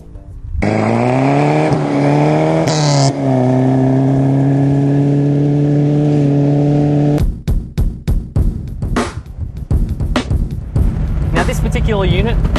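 A 1975 Chrysler Galant, converted from a 1.6 to a 2.6 litre engine, revs loudly and steadily with rising and falling tones for several seconds, then breaks into choppy bursts as gears change or the throttle is blipped while driving.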